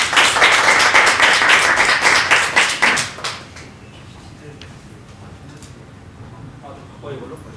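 At a church school teachers' workshop, an audience welcomes a lecturer with loud, brisk clapping that lasts about three seconds, then drops off abruptly into a quiet room with scattered small sounds.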